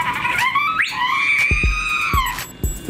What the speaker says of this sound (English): Oh, we can make him scream.